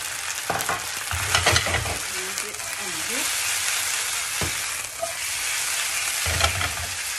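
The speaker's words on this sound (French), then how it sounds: "Ici, maintenant, je vais venir rajouter l'oignon." Onions go into a hot pan for a curry chicken and asparagus salad and sizzle loudly and steadily throughout, with stirring scrapes mixed into the frying hiss.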